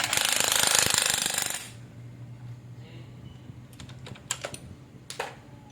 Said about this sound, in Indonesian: Setelah itu kita kencangkan mur yang ukuran 14 nih kalau nggak salah ya.